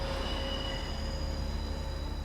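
Steady interior rumble of a moving train in an anime scene, with a continuous low drone, faint rail clatter and a thin tonal whine running throughout, no speech.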